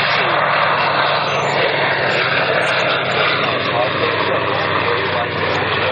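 A PZL-106 Kruk agricultural aircraft drones steadily overhead, its engine a loud continuous roar that holds level throughout, with faint voices beneath.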